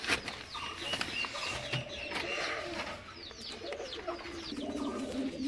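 A pair of white fantail pigeons in a pigeon loft, soft repeated cooing at low volume mixed with wing flutters and faint scratching and other bird calls around the coop.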